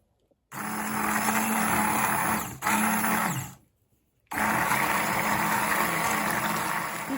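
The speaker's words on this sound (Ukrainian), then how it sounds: "І далі це все збиваю блендером." A blender whirs loudly and steadily mixing a boiled egg and cocoa cream dessert, cuts out briefly, restarts, stops for a second, then runs again without any talking.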